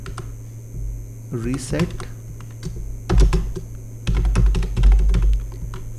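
Code being typed on a computer keyboard in GameMaker Studio 2.3: a quick run of close, clicky keystrokes in uneven bursts over a steady mains hum, with a voice speaking briefly between them.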